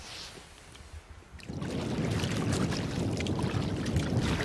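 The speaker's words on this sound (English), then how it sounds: "It's windy, cold. It's the battle of the paddle." Canoe paddling on windy Lows Lake in the Adirondacks, a steady broadband wash of wind and water that swells after a quieter first second and holds loud and close, with no talking.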